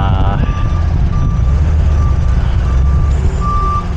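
A truck engine rumbles loudly and close, with evenly spaced reversing beeps sounding over the steady low drone.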